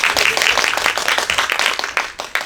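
Audience claps to welcome a presenter to the stage at a Korean media forum event, a brisk, steady burst of applause that fills the short moment before trailing off.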